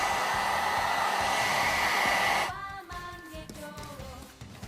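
A heat tool blows hot air over scrap Worbla thermoplastic, a steady close whooshing hiss for about two and a half seconds before it shuts off, leaving quieter handling noises.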